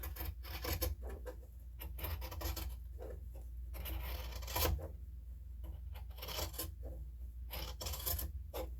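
Fabric for a child's tote bag being trimmed, with steady rasping, rubbing cuts over a constant low hum, a brief louder scrape near the middle, close by.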